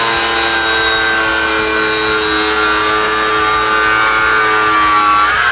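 Loud, continuous whine of a DeWALT cordless angle grinder with its disc sinking quickly into square steel pipe, a steady cutting scream that stays close and unbroken for the whole stretch.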